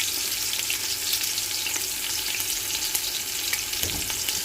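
Mutton for Jamaican curry goat browning in a pot, a continuous close, loud sizzle and crackle of frying meat, with a faint knock near the end.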